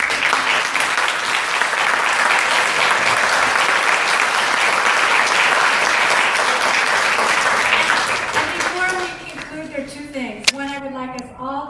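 Applause from an audience at a college council candidates forum, a dense steady clapping roar filling most of the span before thinning out as a voice begins speaking near the end.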